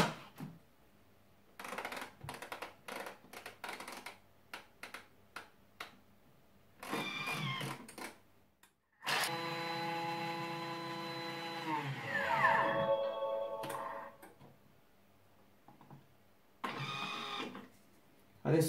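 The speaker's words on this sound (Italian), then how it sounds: "Aggiungiamo le mandorle e polverizziamo per 20 secondi a velocità 10." A Thermomix TM6 grinds almonds with sugar at top speed, a loud whirring roar that holds for a few seconds and sweeps in pitch, set between quieter clicks and bumps.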